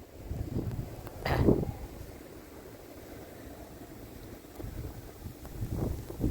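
Strong winter snowstorm wind in Montreal roars and buffets the microphone in uneven gusts, rising and falling close by with no talking.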